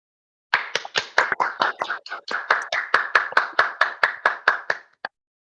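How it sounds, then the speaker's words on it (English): Sharp, rapid claps come close and clear in a quick burst, then thin out and stop, like a few unmuted participants on an online call applauding a guest. "let's give a warm round of applause to Nicole Gibson."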